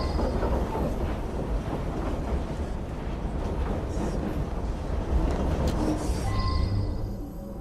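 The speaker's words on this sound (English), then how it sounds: "it's a noisy train" Train running in the Assassin's Creed Syndicate video game, a steady loud rumble and rattle of the carriages that carries on throughout with no break.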